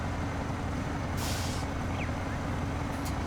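A heavy hauling truck in the SnowRunner video game idles with a steady low engine rumble, broken once by a sharp hissing burst of its air brakes, then a faint higher chirp.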